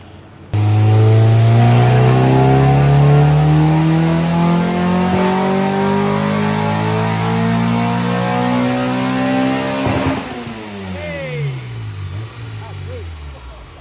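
A VTEC car engine from a father-and-son project build revs hard on a dyno, its loud, steadily climbing pitch pulling for about ten seconds before the throttle lifts and the revs fall away.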